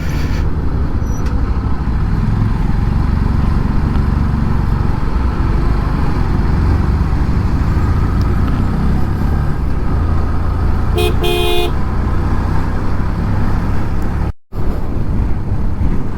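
Heavy traffic stuck in a jam on the Jammu–Srinagar highway in the mountains, a loud continuous roar of engines and road noise with brief horn toots partway through, heard close up and without talk.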